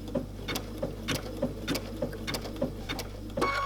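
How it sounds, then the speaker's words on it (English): Sewing machine stitching decorative stitches toward a fabric corner, a quiet, close mechanical whir with an even rhythm of ticking needle strokes, about three per second, over a low steady hum. "I'm going to sew all the way up to the corner, and I'm going to stop with my needle on the outside edge"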